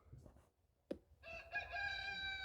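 A rooster crows loudly from about midway, its long harmonic call sustained, preceded by a few faint clucks and a sharp click.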